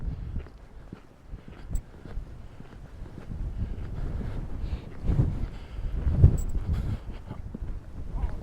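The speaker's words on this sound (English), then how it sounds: "It's a cold wind." Cold wind gusts across a woodland trail near a reservoir, a steady low rumble of air buffeting the microphone, with faint footsteps and rustling underneath.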